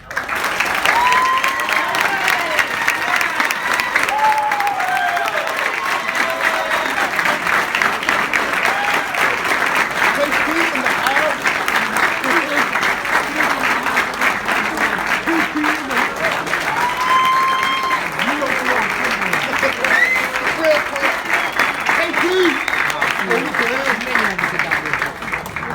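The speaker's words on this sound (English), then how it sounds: "every player on this team would give you a huge round of applause" An audience at a high school football dinner gives a long, steady round of applause for player Kenny Perkins. The dense clapping runs unbroken and close throughout, with faint voices mixed in.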